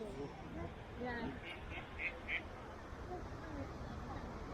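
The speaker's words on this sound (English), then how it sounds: "Little ducklings there." Ducks and ducklings quack a few times by a clear river full of fish, soft and fairly distant, heard over steady outdoor ambience with faint background voices.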